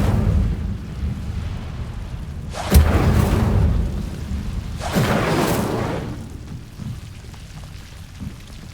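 An Incendio fire spell in Hogwarts Legacy roars out in two heavy, close blasts a couple of seconds apart, each a broad whooshing burst that fades over a low rumbling game ambience.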